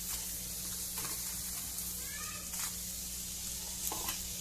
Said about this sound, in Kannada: ಈರುಳ್ಳಿ ಅದರ ಜೊತೆಗೆ ಬೆಳ್ಳುಳ್ಳಿ ಮತ್ತು ಶುಂಠಿ ಅದು ಫ್ರೈ ಆಗಬೇಕು.